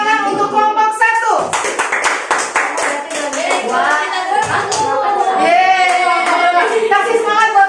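Classroom children clap for group 1 in a lively burst of hand claps, dense and close, with kids' voices and shouts mixing over the clapping throughout.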